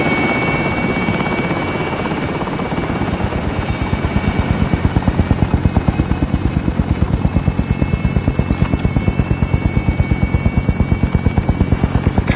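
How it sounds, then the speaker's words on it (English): A game helicopter holds its hover nearby, with a loud, steady, rapid rotor chop over a constant engine whine that grows more pronounced as it goes on, and no voices. "Helo is in position."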